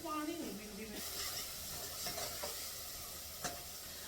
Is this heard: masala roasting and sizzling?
yes